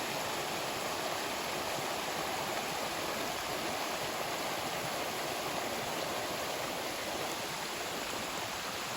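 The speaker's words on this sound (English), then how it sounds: "Waterfall number 3 today." A waterfall along the Appalachian Trail roars in an unbroken broadband rush of falling water that fills the whole span. It is steady and dense, with no voices over it.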